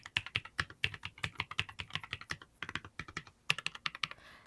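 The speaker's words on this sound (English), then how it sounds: "Let's customize my Kizzi K20 NUMPAD. Here's a quick before sound test." Keys on a Kizzi K20 numpad keyboard are typed in a brisk, irregular run of crisp, close clacks, with a short pause midway and no talking.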